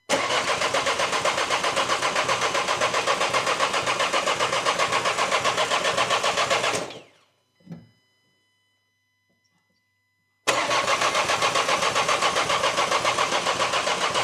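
A Renault 1.6 dCi Bi-Turbo R9M diesel engine cranking with a rapid rhythmic whir, cutting off abruptly into silence, then cranking again just as loudly after a few seconds.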